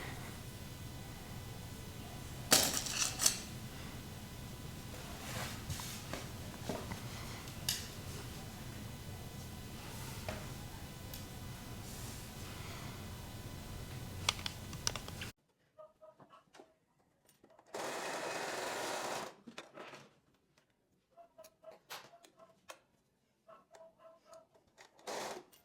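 A domestic sewing machine stitches fabric for homemade underwear, a close, steady mechanical whirring with small clicks for about fifteen seconds, then quieter handling sounds and short bursts.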